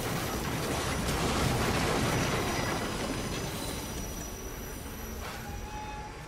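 Train rushing through a tunnel in the Assassin's Creed Unity video game, a loud rumbling wash with squealing wheels that swells early and slowly fades, with no voices over it.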